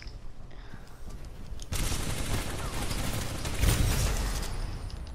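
Rapid gunfire from a favorite weapon in the shooter Titanfall 2 during PvP play, with quieter shots and clicks giving way to a dense, loud burst of firing that swells again near the end.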